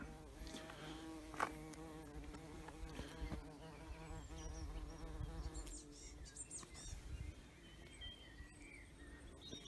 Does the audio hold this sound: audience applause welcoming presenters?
no